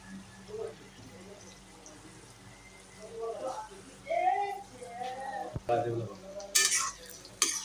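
Onions fry in a pan for an Assamese duck and ash gourd curry, with a soft steady sizzle as they are stirred and scraped. Metal clinks and scrapes grow busier toward the end, and someone talks throughout.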